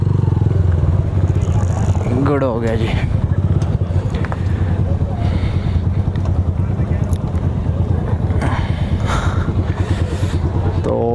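Heavy sports motorcycles and trail bikes roll up at a police bikers' gathering in Islamabad, engines droning steadily with wind buffeting the microphone while people talk close by.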